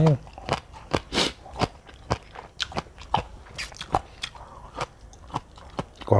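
Close, loud crunching bites and chewing of som tam with crispy squid, sharp irregular crunches spaced through the clip, with a little vocal sound between bites.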